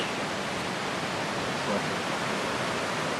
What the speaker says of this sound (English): Let's go see the stream.